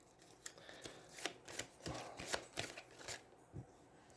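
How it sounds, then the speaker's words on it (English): Cards from the turn order deck of the Aeons End board game, second edition, are shuffled by hand, making quiet, rapid papery flicks and taps in uneven bursts at close range. "take this 2 card, shuffle it back in to the turn order deck"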